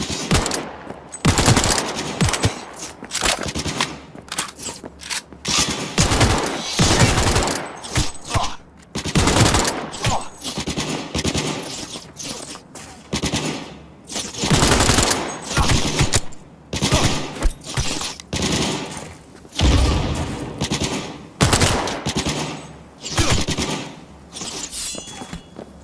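Dense, sustained machine-gun fire in the Cyberpunk 2077 video game, loud bursts and rattling volleys packed together almost without pause across the whole stretch.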